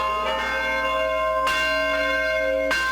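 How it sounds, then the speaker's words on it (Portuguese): Church bells ring out from the towers of the Boa Viagem and São José churches in central Belo Horizonte, with loud, resonant strikes recurring at intervals over a sustained ringing hum. "as badaladas ecoaram das torres das igrejas da Boa Viagem e São José."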